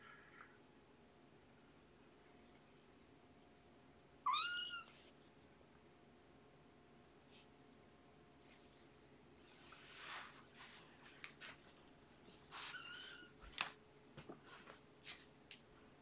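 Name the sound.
kittens meowing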